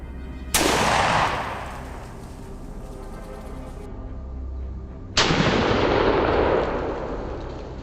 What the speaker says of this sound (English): Steady on the bead, I squeeze the trigger.